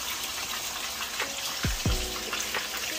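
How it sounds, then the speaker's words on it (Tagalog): Big head fish fries in a pan of hot oil, giving a continuous sizzling hiss with a couple of sharper spatters near the middle; no one talks. "magpiprito muna tayo, guys"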